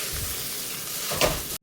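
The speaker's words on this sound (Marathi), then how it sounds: "आता या स्टेजला यामध्ये मी ॲड करणार आहे 1 हाफ वाटी डेसिकेटेड कोकोनट आणि ह्याला छान मिक्स करायचं आहे" Desiccated coconut stirred into a bottle gourd barfi mixture in a hot pan, a steady close sizzle with a louder scraping stir near the end before cutting off.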